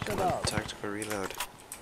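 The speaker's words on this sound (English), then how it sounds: "Tactical reload." An MK18 rifle gets a tactical reload in a shooter video game, with quick metallic clicks and rattles mixed under a voice speaking.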